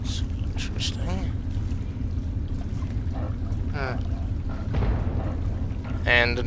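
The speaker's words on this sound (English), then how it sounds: "And an explosion." An explosion in the Fallout 3 video game sounds as a brief burst partway through, over a constant low rumbling game ambience.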